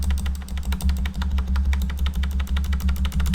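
Rapid repeated presses on the dampened spacebar of a Corsair Strafe mechanical keyboard with Cherry MX Red switches, a steady run of close, deep, thocky taps.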